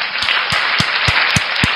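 An audience applauds for a man named Oten, with dense sustained clapping and a few sharper accented claps recurring at a steady rhythm through the room.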